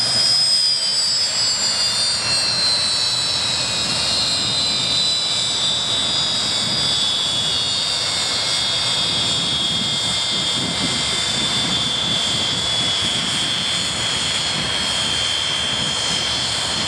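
English Electric Canberra jet trials aircraft with a modified nose passing at an air display, its engines producing a steady, loud roar with a high whine that slowly falls in pitch, continuous for the whole stretch with no talk.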